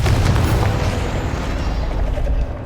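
Confringo fire spell in Hogwarts Legacy, a loud, booming blast with a rumbling low roar that fills the whole moment and fades slightly at the end.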